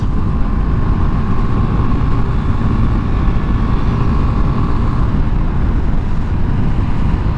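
A KTM 390 Adventure motorcycle riding at speed on Kenda Trakmaster DTR tires in the rain, a loud, continuous engine and wind roar that stays steady throughout.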